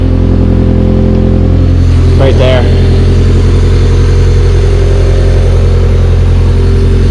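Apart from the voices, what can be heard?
Honda Civic engine running through exhaust after motor swap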